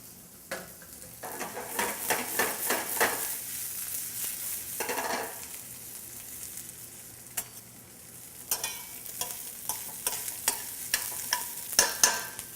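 Chopped broccoli hits hot oil in a pan and fries with a loud, steady sizzle, then gets stirred and tossed. A run of sharp scraping clicks from utensil against pan follows, near and alone without talk.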